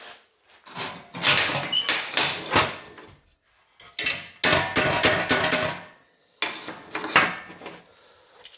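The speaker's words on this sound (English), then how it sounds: "Now I'll dolly this up here to fit here." Sheet metal patch for a rust repair is shaped with hammer and dolly: three bursts of rapid, ringing metallic blows close by, separated by short pauses, with no talk.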